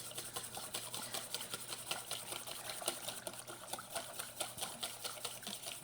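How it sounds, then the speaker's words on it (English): A whisk clicks rapidly against a bowl while oil, about two-thirds olive and one-third canola, is drizzled into a honey salad dressing for a spinach and pear salad, a steady stream of quick, close scraping taps. "so you're whisking while you're putting it in"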